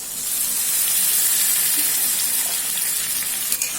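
Water poured into cooked-down curry masala with oil in a pan, for a doi katla fish curry, gives a steady, close hissing rush that holds for about four seconds without a break.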